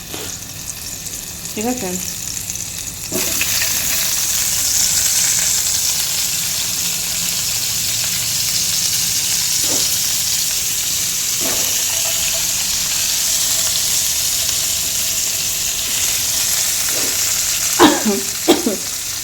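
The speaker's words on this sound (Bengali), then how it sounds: "আলুগুলোকে একটু অল্প সামান্য একটু ফ্রাই করে নেব।" Potatoes fry in a pan with a loud, steady sizzle and occasional stirring scrapes, while a voice speaks briefly near the start and end.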